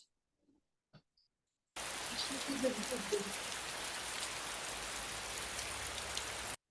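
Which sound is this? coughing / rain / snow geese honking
rain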